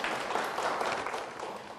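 A seminar audience applauds in a brief, dense burst of clapping throughout, moderately loud in a lecture room.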